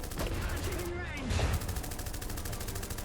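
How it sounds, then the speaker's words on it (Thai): Gunfire and artillery shots from the Iron Harvest 1920 real-time strategy video game crackle in a dense, continuous battle mix, fairly quiet overall, with a louder burst in the middle. "ยิงปืนใหญ่ใส่มันเลย"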